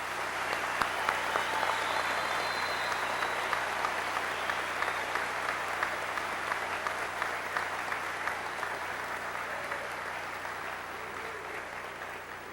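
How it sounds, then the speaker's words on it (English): Sustained applause from an indoor high school graduation audience for scholarship winners, a dense, steady patter of clapping that continues without letup and fades slightly toward the end. "Let's now recognize all these scholarship winners with a round of applause"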